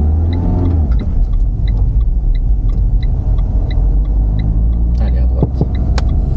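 Manual car pulling away from a stop with a learner driver at the wheel: a steady low engine rumble and road noise throughout, rising slightly near the end, with faint beeps and clicks over it.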